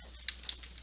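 A handful of light, quick keystrokes on a computer keyboard while entering a new user's name, five or six soft clicks in under a second over a quiet hum, with no voice.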